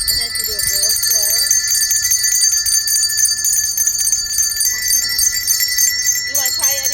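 Bells ring steadily throughout, their bright sustained tones layered over one another in a room where people compare pitches, and voices speak briefly near the start and end.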